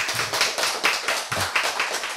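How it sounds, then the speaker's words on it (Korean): A church lecture audience claps in uneven, overlapping bursts, a close and fairly loud patter of hands with a loose rhythm and no voices over it. "박수."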